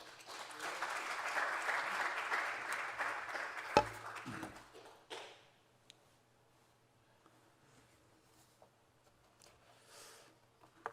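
Audience applause fills a church vision-proclamation ceremony, a dense steady clapping for about four seconds that breaks off with a sharp knock and fades into a quiet room with faint scattered sounds.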